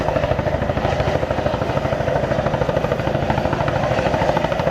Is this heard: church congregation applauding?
no